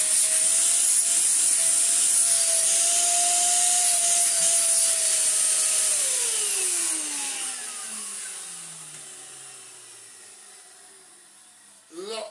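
A restored Vorwerk VK135 vacuum cleaner runs with a steady, loud whine and airy roar, then its motor note slides downward as it powers off and winds down, with a brief clunk near the end.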